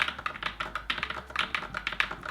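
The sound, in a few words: typing on a creamy, thocky mechanical keyboard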